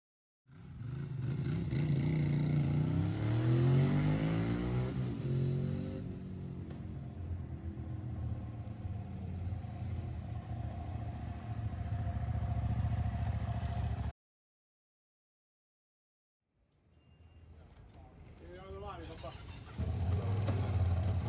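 A string of Ducati motorcycles leaving the factory after a shift, engines rumbling and revving as bikes pass close by, a loud stretch, a short silent gap, then more engine noise returning.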